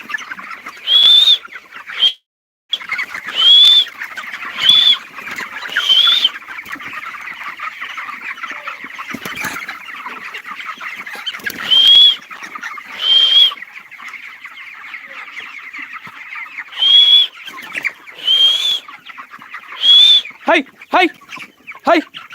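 Chickens cluck and call repeatedly inside a poultry farm, bursts of bird calls recurring over a steady crowded background din of the flock, with brief talk mixed in.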